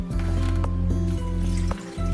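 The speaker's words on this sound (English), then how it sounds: "I'm just gonna add enough water to cover it" Water pours steadily into a pot to make broth, a continuous close gurgling and splashing with a few brief breaks.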